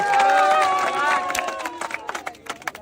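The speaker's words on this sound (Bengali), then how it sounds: "জোরে একটা হাততালি" A village crowd gathered for a river tube-crossing game bursts into scattered, sharp hand claps for a prize winner, building after a loud voice fades and continuing close and uneven to the end.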